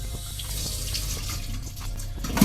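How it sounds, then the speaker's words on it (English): Tap water runs into a dish of seasoned chicken in a home kitchen, a steady close splashing stream that keeps going without pause for the whole stretch, with no talking over it. "Put a little bit of water, enough water to swirl it"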